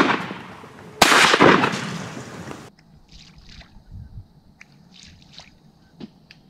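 Loud, close shotgun blast at about one second during a mallard duck hunt over a 40-yard hole in thick ice, with a ragged tail, then quieter outdoor sounds and faint scattered bird calls.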